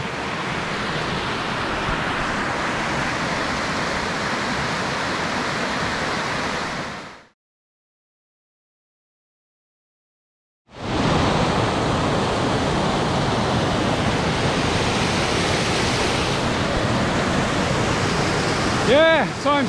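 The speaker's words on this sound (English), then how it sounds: "This fall here is a two-tier." A two-tier waterfall on Leets Brook, Nova Scotia, roars as a loud, steady rush of water, broken by a gap of about three seconds of silence before the same rushing returns.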